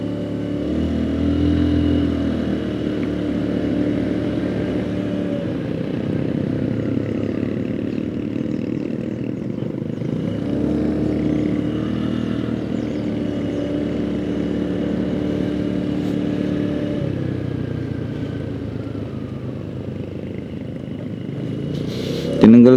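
Steady motorcycle engine drone while riding on the road toward Tagaytay, Philippines, a continuous close-up hum with wind noise that rises and eases slightly across the ride, ending in a sudden loud bump.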